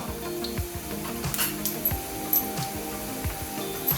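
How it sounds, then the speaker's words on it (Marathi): Garlic and chopped curry leaves sizzle steadily in hot oil while cooking for a gram-flour dish, a continuous close crackle with occasional clinks of a stirring utensil. "थोडीशी लसूण जराशी भाजली छानशी, हे बघा लसूणचा जरासा रंग बदलत आला"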